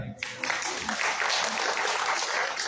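Audience applause at a Mexican rock gathering, a dense wash of clapping that rises quickly and holds steady and loud throughout.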